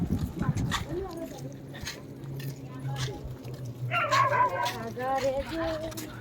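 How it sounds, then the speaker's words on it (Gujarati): Dogs bark along a roadside during a walking pilgrimage to Pavagadh, a few sharp, fairly close barks and yips rising midway over steady street noise and a low hum. "અમારા સ્વાગત માટે કૂતરાઓ આવી ગયા છે આગળ"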